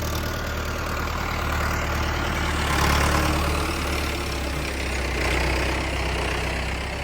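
A Massey Ferguson tractor engine idles steadily nearby, a low continuous rumble that swells slightly now and then, with no talking.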